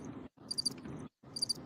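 Cricket chirping in quick repeated bursts, two clusters of bright trills separated by short silences, close and alone with no talk.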